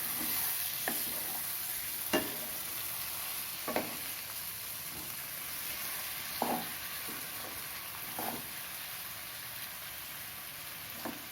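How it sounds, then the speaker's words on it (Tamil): Egg capsicum masala frying in a pan over low heat keeps up a steady background sizzle, broken by a handful of distinct spoon stirs and scrapes spaced a second or two apart, no talking. "இப்போ லேசாக கலரி விட்டுக்கணும்"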